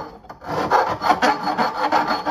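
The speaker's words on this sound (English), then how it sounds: "We'll just use a file." A hand file rasps across a workpiece while building a DIY receiver-hitch umbrella stand, in a steady run of close, rhythmic back-and-forth strokes that carry on without pause.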